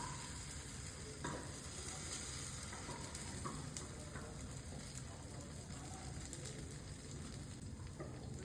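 Ragi vegetable dosa batter sizzling steadily on a hot oiled griddle, a continuous close crackle with faint bird cooing in the background.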